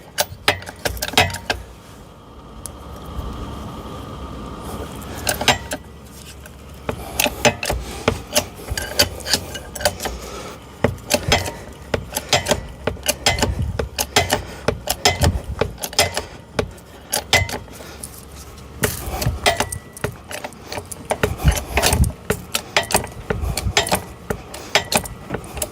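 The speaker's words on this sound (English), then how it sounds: "So now we're going to jack this up. So again, put this into a bottle jack." Repeated ratcheting clicks and metallic rattles from a bottle jack being pumped to lift a low-profile hydraulic car ramp, rhythmic and close, continuing steadily with short pauses.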